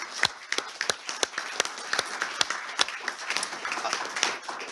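Light, scattered clapping from a small audience thanking panelists at an energy briefing, individual claps distinct and sparse rather than a full ovation.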